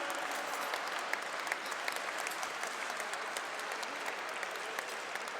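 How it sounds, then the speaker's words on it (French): At an awards ceremony marking a chamber of commerce anniversary, an audience applauds strongly and continuously, with dense, even clapping and a few sharper individual claps standing out throughout. "On va applaudir très fort Julien."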